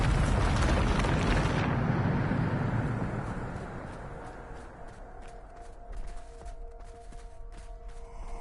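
A Bombarda spell explodes in Hogwarts Legacy: a loud, roaring blast fills the first two seconds, then fades into crackling debris and faint ringing tones.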